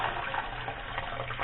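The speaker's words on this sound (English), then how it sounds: "when I pull this up, we're going to get some water coming out of here" Water pouring from a running toilet's tank into a child's plastic training potty, a steady close splashing rush lasting the whole moment.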